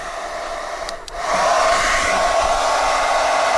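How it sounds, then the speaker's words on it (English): A hair dryer running off a 1500W inverter switches on with a click, then settles into a loud, steady close-up blowing whir that continues to the end. "So I took out a hairdryer just to test."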